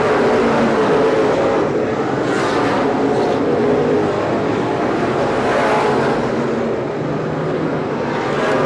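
Open-wheel race cars lapping Seekonk Speedway at an oval short-track race, a continuous loud roar of several engines spread around the track, with faint swells as cars pass.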